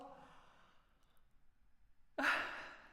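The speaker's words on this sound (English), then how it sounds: "You need to do a big yawn for me as I can't open my mouth that wide." A big yawn: a soft, drawn-out voiced breath fading for about two seconds, then a sudden louder breathy exhale at the end, close to the listener with no talking.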